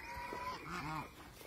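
A farm goose gives a few short nasal honks close by, with a light background murmur of other birds.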